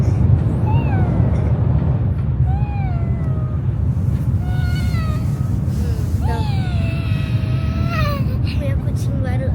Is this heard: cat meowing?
yes